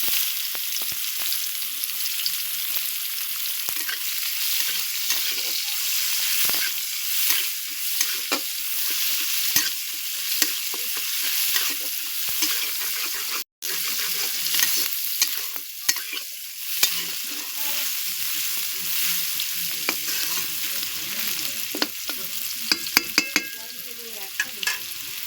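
Onion frying in a pan for a fish curry, a bright continuous sizzle with frequent scraping and stirring strokes, close and steady for the whole stretch, with one momentary dropout midway.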